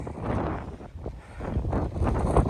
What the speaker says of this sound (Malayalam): കാറ്റടിച്ചിട്ട് പറന്നു പോകുന്ന പോലായി പോയി